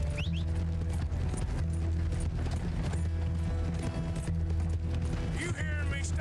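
Rapid clip-clop of galloping horse hooves in Red Dead Redemption 2 runs continuously under busy game sound effects and music, with voices talking over it.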